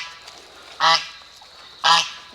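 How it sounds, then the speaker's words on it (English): Two loud honks from a goose, evenly spaced about a second apart, clear against quiet barnyard background with no talking. "You're gonna block the goose."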